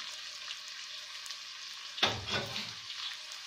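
Onions and green chilli sautéing in a pan: a steady soft sizzle, then a sudden louder frying burst as stirring begins, continuing close and busy.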